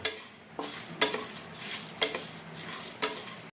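Whole spices dry-fry in a pan, with a spatula scraping across it in sharp, regular strokes about once a second over a low, light sizzle.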